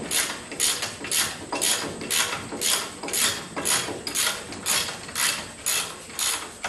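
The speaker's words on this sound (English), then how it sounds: "I had the air ratchet out for this." An air ratchet works on 5/8 brake caliper bolts during front caliper removal. Close up, it gives about a dozen evenly spaced bursts of rapid ratcheting, each roughly half a second apart, with no talk.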